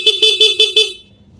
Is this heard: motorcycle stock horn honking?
yes